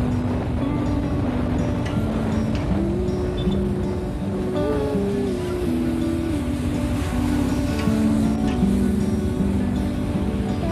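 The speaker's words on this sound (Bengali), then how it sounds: "সাথে বাইকের আওয়াজ, হালকা বাতাস" A motorcycle ridden on a monsoon road between Dhupguri and Jalpaiguri, its engine giving a steady, close drone whose pitch rises and falls as the bike speeds up and slows.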